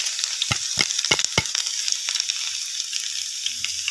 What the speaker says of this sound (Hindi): अब लगा रहे हैं हम तड़का